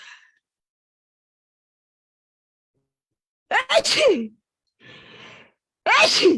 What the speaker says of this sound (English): oh my god, I've got to sneeze